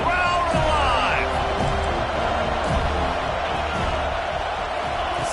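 A football stadium crowd roars steadily on a third-down red zone play, a dense wash of cheering voices with occasional shouts and whistles rising above it.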